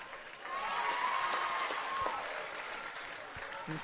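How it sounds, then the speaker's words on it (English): A crowd at a 17 and Under netball championship match between WA and Victoria applauds, a moderate, fairly distant patter of clapping with some cheering, under faint voices. "The crowd has certainly gotten into this contest"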